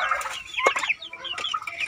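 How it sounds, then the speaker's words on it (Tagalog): Broiler chickens crossed with native fowl, kept for breeding, cluck and chatter steadily at close range while eating, with overlapping soft calls and no talking. "Yan yung ating broiler mga boss. Lakas kumain mga boss."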